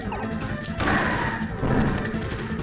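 Explosions in the video game Kirby Super Star Ultra, two bursts of crashing, rumbling game sound effects a second apart, loud and close over steady background game music, with no talking.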